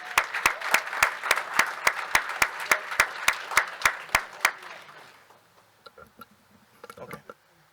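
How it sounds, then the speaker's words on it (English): A small audience at a township board of education meeting gives the parents a round of applause, heard as sharp, regular claps at an even rhythm that stop after about four seconds, followed by faint scattered noises. "let's give the parents a nice round of applause"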